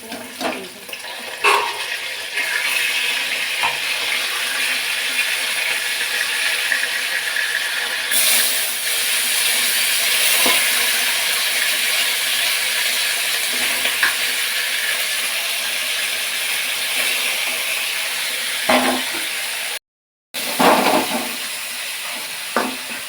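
Fish frying in hot oil, a loud, steady, close sizzling hiss that carries on almost without a break, with only a brief drop-out near the end.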